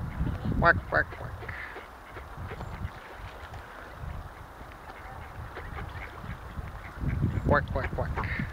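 Ducks quack outdoors along the Camino de Santiago in Spain: a short burst of quacks near the start and another cluster near the end, over a steady open-air background.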